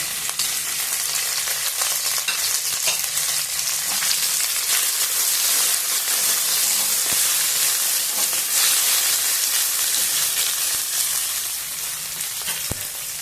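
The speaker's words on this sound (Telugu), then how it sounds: "ఇంకా ఇప్పుడు కొద్దిగా పుదీనా కూడా కొంచెం అట్లా వేయించుదాము" Mint leaves frying with browned onions in a pan for chicken curry, a steady, loud, dense sizzle that runs continuously throughout with occasional stirring scrapes, no voices.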